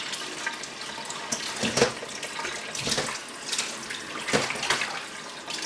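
A sheep's heart is washed under a running tap, making a steady close rush of water into a sink with occasional splashes as it is handled, and no voices.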